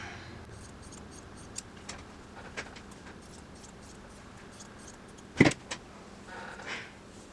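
Scissors trimming quilt batting for a scroll holder craft: a few faint, scattered snips in a quiet room, then one sharper, louder cut near the end.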